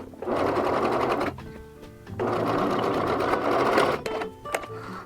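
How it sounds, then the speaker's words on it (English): Sewing machine running long continuous stitching bursts down the side seam of a smock apron, a loud steady motor whir with a brief pause near the middle and short stops toward the end. "just sew all the way down the side"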